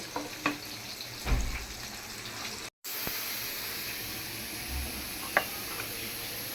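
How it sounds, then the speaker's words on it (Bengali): Pabda fish frying in oil on a stove, giving a soft, steady sizzle with a few light clinks and scrapes of stirring scattered through. "এক চুলায় আমি পাবদা মাছটা ভাজতেছি"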